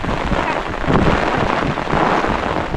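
Heavy rain pours steadily during a violent storm in rural Konkan, a loud, dense, unbroken hiss with gusts of wind buffeting the microphone and no pauses.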